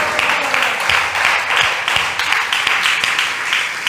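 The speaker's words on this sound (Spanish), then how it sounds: "Démosle un aplauso fuerte a Él en esta hora" A church congregation claps during a service, producing a sustained, dense wash of applause that holds steady and fairly loud from start to finish.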